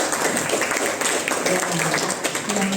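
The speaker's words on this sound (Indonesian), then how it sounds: "Tepuk tangan dulu dong" Audience applause at a human rights and anti-radicalism seminar, a steady dense patter of many hands clapping at moderate loudness for the full stretch, with no pauses.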